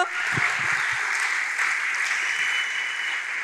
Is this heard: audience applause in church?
yes